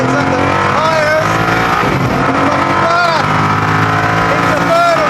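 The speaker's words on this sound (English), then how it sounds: "Lights up the tyres." A Koenigsegg Agera R accelerates hard in first gear with traction control off, engine note climbing through rising harmonic sweeps as the tyres spin. The sound is loud and constant, and a voice speaks over it.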